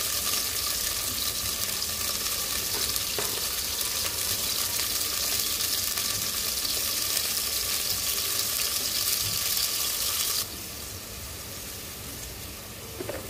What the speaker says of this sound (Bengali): পেঁয়াজটা ভাজা হয়ে গেছে, পানি দিয়ে দিব